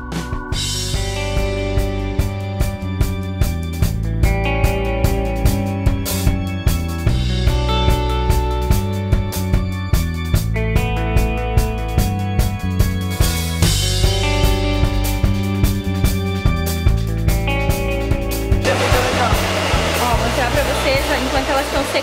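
A hair dryer blows steadily while hair is dried fully before flat ironing during a formaldehyde-free progressive straightening treatment. Its airflow sits under loud rhythmic background music.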